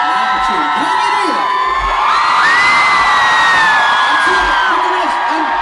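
A large stadium concert crowd cheers, whoops and screams together, a sustained loud roar with rising shrill yells swelling in the middle before easing slightly.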